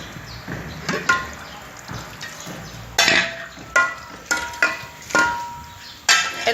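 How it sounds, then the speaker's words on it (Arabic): Dishes and pots being rinsed under running water, with repeated clattering knocks and splashes coming in irregular bursts, close by and fairly loud. "خالتي بقى ايه بتشطف كده في المواعين"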